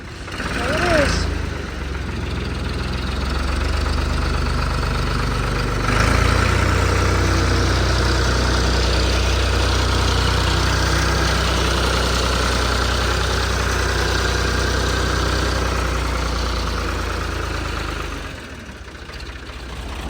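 Tractor engine idling steadily while warming up inside a shop, a low continuous rumble close by that holds for about eighteen seconds with people speaking briefly over it.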